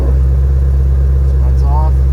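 A 2016 Ford Mustang GT350 in Competition Orange rumbles steadily up close, its exhaust droning low and continuous at moderate loudness with no break in the note.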